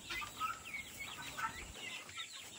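Chickens on a farm in Bicol give off soft overlapping clucks and chirpy calls, fairly faint and close, continuing throughout amid low background noise.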